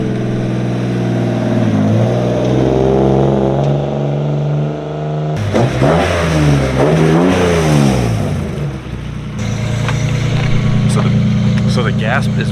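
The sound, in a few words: car engine revving, car with ITBs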